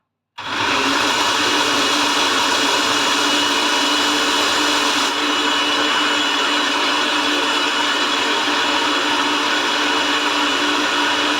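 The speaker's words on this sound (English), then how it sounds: "So I've just got in here 2 bananas, and I'm just going to whiz those together." A kitchen blender whizzes two bananas, running loud and steady from start to finish as one continuous motor whir with no pauses.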